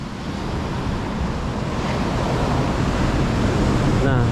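Ocean waves at Seruni beach in Pacitan, a continuous rushing surf that builds slightly in loudness, with wind buffeting the microphone and no clear speech.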